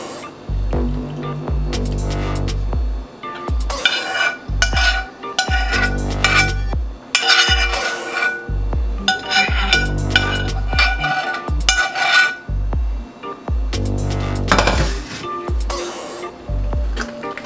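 Garlic butter mashed potatoes being mixed in a pot, loud wet squishing and slapping strokes in an uneven rhythm, close up, no talking.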